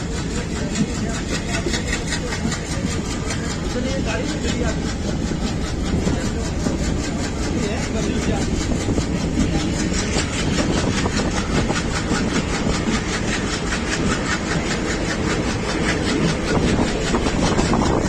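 The Barmer–Munabao train rolls along the rails near Gadra Road, a loud continuous rumble with rhythmic clickety-clack of wheels on track joints throughout.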